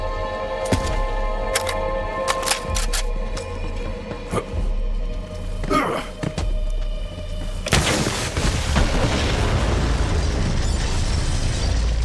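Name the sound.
explosion in video game Borderlands 3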